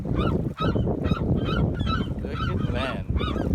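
Geese honk harshly and repeatedly near a fishing spot in Berkeley, California. The overlapping calls come in loud, close bursts for several seconds.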